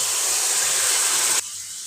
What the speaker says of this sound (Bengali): এখন একটু আমি পানি দিয়ে দিব